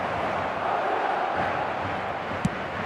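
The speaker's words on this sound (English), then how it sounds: "the crowd level has gone up a notch" A big eFootball 2025 stadium crowd roars and cheers after a goal, a steady swelling wall of voices with a brief sharp accent near the end, no commentary over it.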